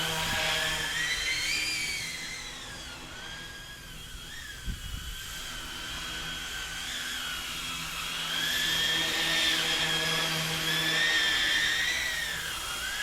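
A ROBAN 470 remote-control helicopter whines continuously nearby, its high rotor pitch rising and falling as it maneuvers.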